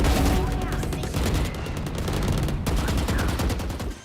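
Rapid shotgun blasts and gunfire from the video game Valorant during a PRX vs EG grand final, dense overlapping shots filling the whole stretch with a brief lull midway, loud and continuous under faint crowd noise.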